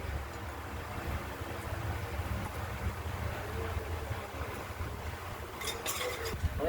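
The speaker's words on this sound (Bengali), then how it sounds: "বাদামটি আগে ভেজে নিচ্ছি, চীনা বাদাম।" Peanuts frying in a pan: a steady, faint, broadband sizzling hiss that continues evenly throughout, with a few brighter crackles near the end.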